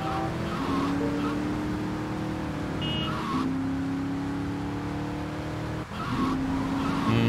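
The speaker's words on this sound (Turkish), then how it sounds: "Bayağı kayıyor bu araba." A car in the game GTA Vice City skids, its tires squealing in long, loud streaks over a steady engine drone, with several separate skids across the stretch.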